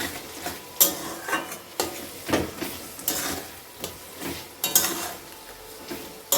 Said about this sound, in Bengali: আরেকটা কড়াইতে বসিয়ে দিয়েছি চিকেনের জন্য মশলা কষানোর জন্য